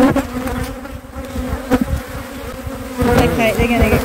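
Honeybees buzz loudly and continuously at close range as a hive is opened for inspection, a dense droning hum that swells and dips with a few sharper passes near the ear.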